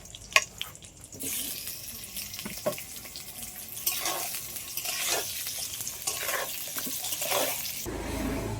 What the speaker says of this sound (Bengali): অল্প করে এবার আলুগুলো সব আমি ভেজে নেব